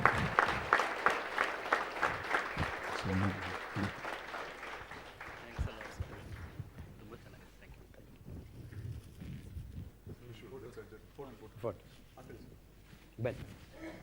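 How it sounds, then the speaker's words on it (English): Applause from a gathering on a TechMahindra campus, starting as a burst of clapping that thins out after a few seconds into scattered claps and murmuring voices. "Big round of applause, gentlemen"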